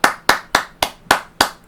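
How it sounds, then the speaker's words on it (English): Six sharp hand claps in a steady rhythm, close and loud, with nothing else heard between them. "Give yourself a pat on the back and a hand clap"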